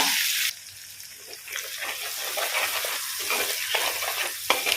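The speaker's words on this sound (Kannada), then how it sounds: "ಈಗ ಫ್ರೈ ನಾವು ಇಲ್ಲಿ ಜಜ್ಜಿ ಇಟ್ಟ ಶುಂಠಿ ಬೆಳ್ಳುಳ್ಳಿ ಮತ್ತು ಕೊತ್ತಂಬರಿ ಅನ್ನಕ್ಕೆ ಹಾಕುವ ಹಾಕಿ ಸ್ವಲ್ಪ ಫ್ರೈ ಮಾಡುವ" Crushed ginger, garlic and coriander fry in a clay pot, a steady close sizzle after a brief louder opening burst, with scraping stirs running throughout and no talk.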